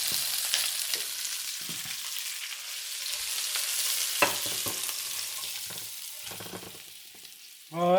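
Shrimp fry slowly in a pan over medium heat, giving a steady close sizzle throughout, with a few light clinks near the end.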